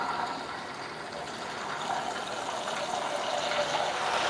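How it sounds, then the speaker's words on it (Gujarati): Rock salt water poured into a wok of half-fried raw banana wafers in hot oil, giving a continuous rushing, bubbling hiss that swells steadily and stays loud throughout. "બીજી બેચની વેફર પણ અડધી પડધી ચડી ગઈ તો એમાં આપણે સેંધવ મીઠાવાળું પાણી એડ કરશું."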